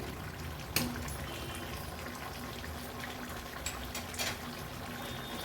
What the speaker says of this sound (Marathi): भाजीला पण छान उकळी आली आहे.